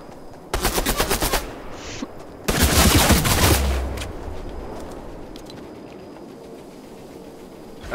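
Fortnite gunfire comes in two loud, rapid automatic bursts, the second longer and heavier, followed by fading quieter game ambience.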